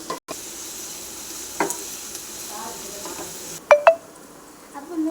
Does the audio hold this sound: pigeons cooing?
no